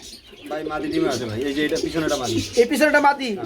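Red Shirazi pigeons, a large breeding pair, coo softly in repeated throaty phrases close by, mixed with someone talking over them.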